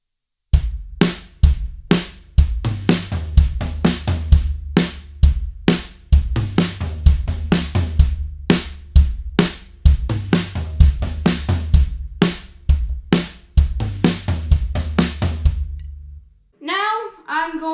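A drum kit plays a steady groove for a song's pattern, with punchy hits moving between high tom and floor tom over a driving pulse, loud and close, ending with a brief sound after the beat stops.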